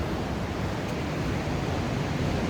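Ocean waves wash steadily onto the shore below Turimetta headland, north of Narrabeen Beach, NSW, a loud, continuous broadband roar with no break and no voices.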